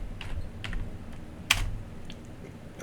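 Typing VBA macro code on a computer keyboard: a few scattered, soft key presses close by, with one sharper, louder keystroke in the middle against low room hum.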